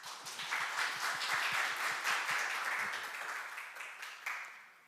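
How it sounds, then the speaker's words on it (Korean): An audience at a Korean corporate tech conference applauds as a presenter is called to the stage, a moderate wash of clapping with distinct individual claps, building briefly and then fading out over five seconds. "여러분 박수 부탁드립니다"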